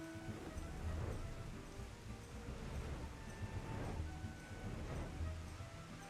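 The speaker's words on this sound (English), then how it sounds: "Oh, it's raining? Don't rain at the beach." Steady rain on a beach in Final Fantasy XIV hisses across the whole stretch, with a low rolling wash like surf beneath it, fairly soft and continuous without any talk.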